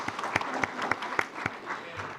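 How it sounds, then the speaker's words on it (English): Moderate audience applause at a business seminar on debt financing, a smaller crowd clapping with a few distinct sharp hand claps standing out over a steady wash, lasting about two seconds. "That's a round of applause."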